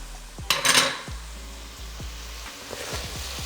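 Chili going into onions frying in a pan for an Indian dhal, with a loud sizzling burst early on, then a steady quieter sizzle and a few light clinks of a utensil against the pan.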